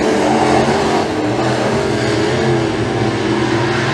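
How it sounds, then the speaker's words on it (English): Pro Mod race cars on a McKean County Raceway dirt track drag race wheel to wheel down the front straightaway, a loud, steady engine roar that holds without break from start to finish. "They will go wheel to wheel off of turn 4 and drag race down the front straightaway"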